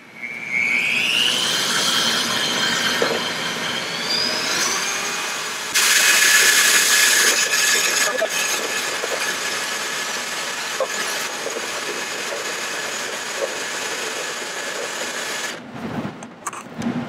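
An electric mixer whips cream until it turns to butter, giving a steady, loud motor whine that climbs in pitch early on, runs continuously with no talking and cuts out near the end.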